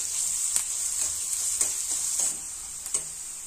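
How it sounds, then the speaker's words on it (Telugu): Thinly sliced onion and curry leaves frying in oil for an egg curry, a loud continuous sizzle broken by several light ticks and scrapes of stirring. "సన్నగా కట్ చేసి పెట్టుకున్న ఉల్లిపాయ 1, కరివేపాకు, ఉల్లిపాయల్ని బాగా వేయించుకోవాలి"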